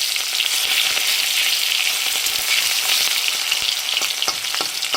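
Chopped onions fry in hot oil with a dense, loud, crackling sizzle, spattering steadily and close by, with no talking.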